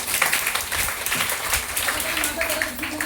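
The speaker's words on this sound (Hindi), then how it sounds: "इसके लिए जोरदार ताली।" Loud, steady applause from an audience at a marketing motivational talk, a dense continuous patter of many hands with a voice speaking over it.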